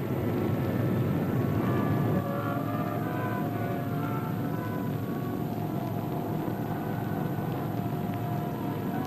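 Droning engines of a Navy-converted B-17 propeller aircraft on anti-submarine patrol in 1946 hum steadily with a rough, throbbing tone, heard continuously and fairly loud for the whole stretch.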